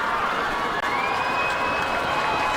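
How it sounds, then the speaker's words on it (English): A crowd at a high school football game makes a steady, dense roar of cheering and shouting that stays loud and unbroken throughout, with no clear voices on top. "Crowd making noise now."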